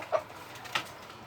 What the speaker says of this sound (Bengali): ডিমটা নেওয়াতে মুরগিগুলো আতঙ্কিত মনে হচ্ছে